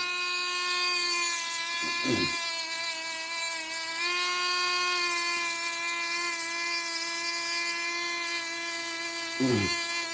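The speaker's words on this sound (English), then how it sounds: "Is this itty bitty sandpaper gonna work? Well, it's 80 grit" A small rotary tool with 80 grit sandpaper works on a ring, giving a steady high-pitched whine that dips briefly twice under grinding contact, close and fairly loud, with no talking.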